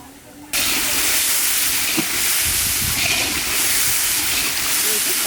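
Tomatoes hit a hot pan for a catla fish curry and set off a loud, steady hissing sizzle that starts abruptly and then holds, with faint low clatter beneath.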